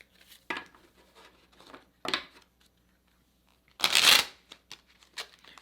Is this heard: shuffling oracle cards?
yes